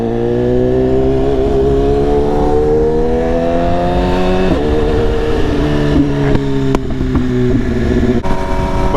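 A BMW S1000RR motorcycle is ridden on a rainy day, its engine loud and close throughout, the pitch climbing smoothly through the gears and then settling into a steadier drone.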